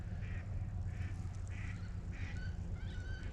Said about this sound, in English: Oh, we can hear some waterfowl.